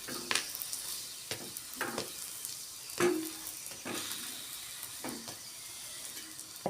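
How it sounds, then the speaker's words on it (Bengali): Potato paratha frying in a pan until red-brown and puffed: a soft, steady sizzle with periodic pressing and scraping strokes at a slow, regular pace, close but fairly quiet. "এটা না আমি লাল লাল করে ভাজবো"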